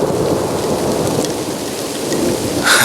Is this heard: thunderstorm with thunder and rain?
yes